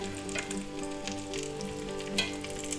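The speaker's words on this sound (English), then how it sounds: "let's flip this one over and see how we're doing on this one." A parmesan-crusted pork chop just flipped in a hot pan, giving a close, steady frying sizzle with a few brighter crackles and no talking.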